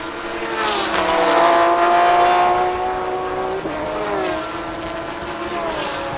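A Ferrari race car drives past on the track during a 2023 Thailand Super Series race. The high-revving engine roars loudly as it passes, its pitch falling and a gear change breaking the note midway, then the sound fades to a steady drone.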